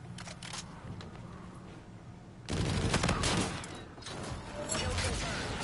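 Video game gunfire crackles in rapid bursts, with a quieter volley followed by a louder, denser spray of shots partway through and continued firing to the end.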